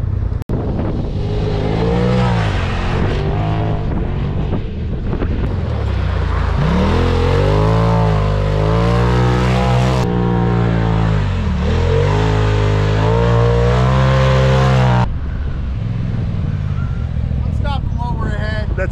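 A 2021 Polaris RZR Turbo S side-by-side engine drones loudly and continuously, rising and falling in pitch as it revs and accelerates, with a short break near the end.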